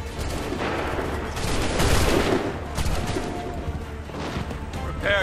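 Musket volleys crash out in Assassin's Creed 3, a loud ragged burst of overlapping shots that swells in the middle and then trails into scattered cracks and noise.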